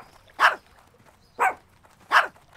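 A dog in World of Warcraft Cataclysm Classic barks three times in evenly spaced, clear woofs over a quiet background, with no talk.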